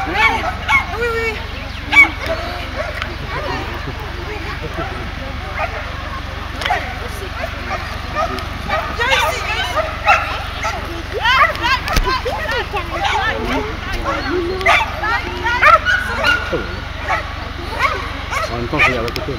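A dog at a grade 3 agility trial in Bresles gives short barks and yips, scattered through a busy outdoor scene where people talk and call out throughout.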